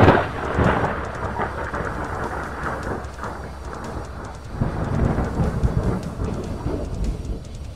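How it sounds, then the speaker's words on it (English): Thunder from a lightning strike as a sound effect: a loud opening crack that rolls into a long, deep rumble, swelling again midway with rain-like hiss, no voices. "As lightning struck the ring"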